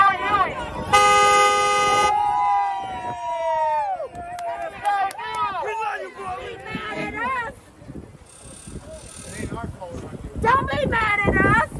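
Car horns honking in a busy setting: repeated toots and longer blasts, some near and some farther off, mixed with people talking, shouting and crowd noise over steady background traffic.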